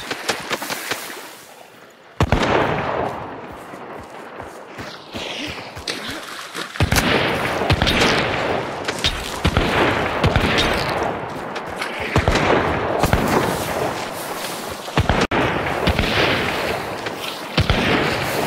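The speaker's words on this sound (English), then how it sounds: "Why are there multiple shots?" Multiple gunshots ring out in a rapid, uneven series of sharp, loud cracks, some close together in bursts, each trailing into a rumbling echo.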